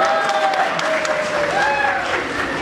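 An audience at an opening ceremony claps in a dense, steady patter that lasts throughout, with a tonal whistle or feedback drifting above it and no clear talking.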